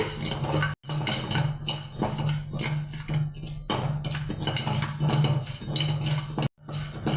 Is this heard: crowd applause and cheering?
no